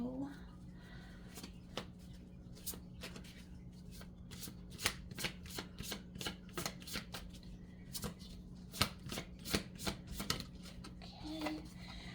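A deck of Light Seers tarot cards is shuffled by hand nearby, with quick riffling snaps and soft slaps in an uneven rhythm over a low steady hum.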